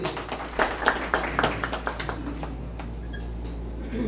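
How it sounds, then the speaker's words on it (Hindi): Audience applause at an AIUS gathering, a modest scattering of claps starting fairly distinct and fading into a softer wash over a low steady hum, heard from a moderate distance. "जोरदार तालियां हो जाए सभी के लिए"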